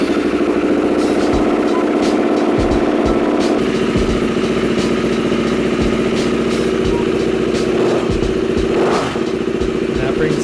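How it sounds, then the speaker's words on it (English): A KTM RC390 motorcycle engine runs after being started, holding a steady, loud idle close by with a continuous mechanical drone and faint rattles throughout. "With fingers crossed, the bike started right up."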